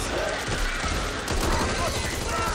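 Dense, rapid gunfire in the Back 4 Blood video game, during the Special Delivery mission. Shots crackle almost without pause for a couple of seconds, loud and close, with voices mixed in.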